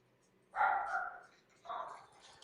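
A dog barks in two drawn-out, fairly loud bursts, the first longer than the second, against a quiet background.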